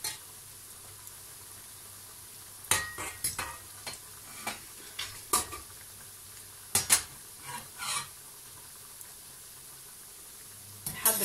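A utensil scrapes and stirs in a pan of hot oil while Tunisian makroud is being made, giving intermittent close clatters and scrapes spaced over a quiet, steady frying hiss.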